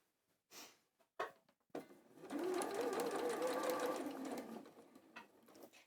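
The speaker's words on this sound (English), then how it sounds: "So this time sewing 1/4 inch away." Sewing machine running a steady stitch about a quarter inch from the edge, a burst of roughly two seconds after a few soft handling noises, close and clear.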